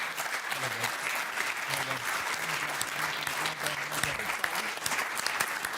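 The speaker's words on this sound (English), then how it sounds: "if you could give our speakers a round of applause" Steady applause from a large audience fills the room, continuous and fairly loud, with a few voices murmuring beneath the clapping.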